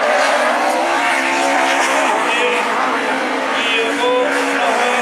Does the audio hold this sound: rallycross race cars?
yes